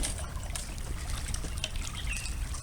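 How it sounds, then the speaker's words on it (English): A pool vacuum draws water out of a spa, giving a soft steady trickling and sloshing under low rumble, faint and continuous with no voices. "You're pulling water out of the spa when you're vacuuming."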